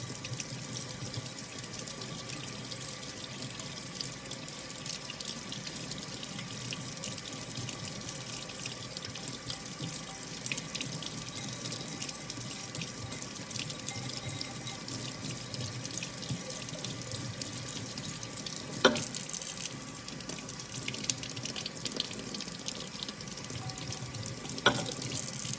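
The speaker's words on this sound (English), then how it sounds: "We're just washing it off, getting all of the etching cream off." Tap water runs steadily over a piece of etched glass, rinsing off the etching cream, a continuous close hiss of flowing and splashing water with a couple of faint knocks near the end.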